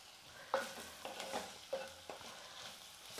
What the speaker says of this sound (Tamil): நான் எண்ணெயிலே தான் வேக வைக்க போகிறேன் தண்ணிலாம் எதுவும் சேர்க்காம ஸ்டவ் கம்மியாக வச்சுட்டு நீங்கள் வேக வச்சிங்கன்னா காய் நல்லா வெந்துடும்